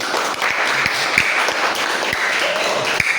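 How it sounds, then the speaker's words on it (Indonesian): A classroom audience at a university teaching practice session gives steady, moderately loud applause after a group presentation, dense clapping that holds evenly throughout. "Kasih tepuk tangan yang kedua."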